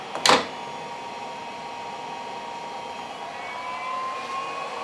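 An exhaust fan on a Kaleido coffee roaster runs during cooling with a steady, airy whir and a faint tonal hum. A sharp knock sounds near the start, then the fan drone holds level and close.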